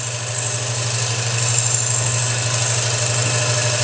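A wood lathe spins steadily while a gouge turns a large salad bowl, giving a loud, even motor hum with a constant high whine and no pauses.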